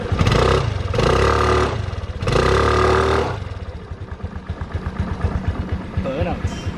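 A motorcycle engine with carburetor trouble idles loudly and close by, with a steady, throbbing exhaust note. A couple of brief surges rise and fall early on, then settle into a lumpy idle while people talk over it.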